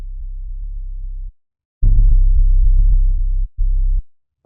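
Deep sub-bass sine tones in short sustained bursts, pure low hum with a slightly brighter attack on the middle note, separated by brief silences.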